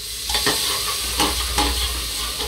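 Ground mint, coriander, chilli and garlic paste sautéed in a little oil for a mint pulao, with steady close sizzling and several scraping stirs of a spoon against the pan.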